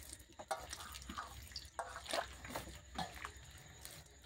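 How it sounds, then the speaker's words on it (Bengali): Wet squishing and dripping as bael fruit pulp is mashed by hand with a little water, irregular soft squelches and splashes close by, quiet and uneven, with no talking. "দেখুন হাত দিয়ে একটু চটকে নিতে হবে ভালো করে, আর একটু জল দিয়ে দেব"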